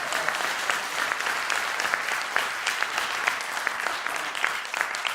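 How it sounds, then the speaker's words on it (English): Dense, steady applause from a university lecture audience for a professor at a Syracuse University lecture series, holding at an even, close volume for the full length with no talk over it. "give a round of applause to Professor Russell"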